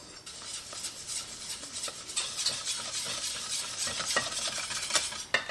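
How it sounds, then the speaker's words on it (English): A spoon stirs cocoa powder into chocolate sauce in a pan on the stove, scraping steadily and continuously against the pan with a faint sizzle beneath. Close and unbroken, with no voices. "Now we're going to mix this in until it's all well combined"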